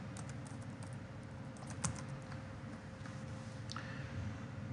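Faint typing on a computer keyboard, with scattered light key clicks in an irregular rhythm over a steady low hum, and no one talking.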